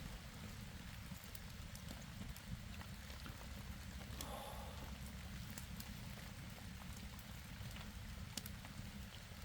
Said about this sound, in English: It's really starting to rain right now.